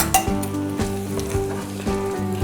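Chopped tomato and frozen peas frying in a pan, a bright steady sizzle broken by several clattering stirs and scrapes of a utensil, close and alone without talk.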